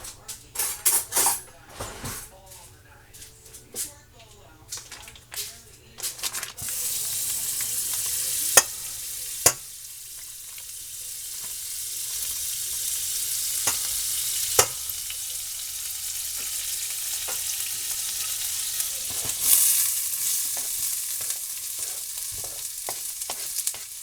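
Butter sizzles and fries steadily in a hot pan as onions and chili cook for a curry, with scattered sharp clicks and scrapes of a utensil stirring against the pan throughout.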